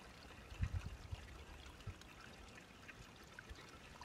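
A faint, small trickle of water spills steadily onto a model prayer wheel made from an empty baking soda container, wooden stick and cap, with a few soft splashes and knocks early on.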